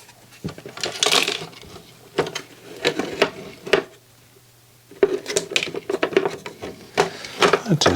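Screws drop out of a Cambridge Audio Azur 340C silver CD player under repair, making sharp metallic clinks and rattles in several bursts, close and fairly loud, with a low hum underneath.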